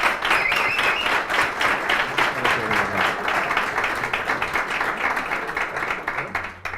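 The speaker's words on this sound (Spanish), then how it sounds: "Yo creo que les podéis dar un buen aplauso." An audience at a tech day blogging workshop applauds, a sustained dense patter of many hands clapping, loud and even, gradually thinning toward the end.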